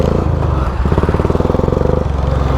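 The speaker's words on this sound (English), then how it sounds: "Crossing the main street with lawnmowers." A riding lawn mower's engine drones loud and close as it drives through town across a main street, a steady rough mid-pitched putter with a rapid pulsing beat that rises briefly in the middle.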